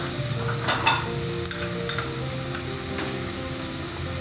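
Chopped ginger stirred into lightly browned onion in a frying pan, with a steady sizzle broken by a few soft clinks and scrapes of a spoon against the pan, close and unaccompanied by talk.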